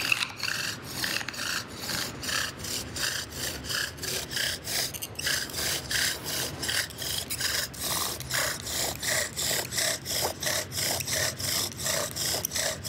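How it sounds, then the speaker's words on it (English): Wooden spindle spun by a bow drill in a socket, giving a steady back-and-forth rasping rub, stroke after stroke in an even rhythm, close and fairly quiet. "this is what it should sound like when you're drilling"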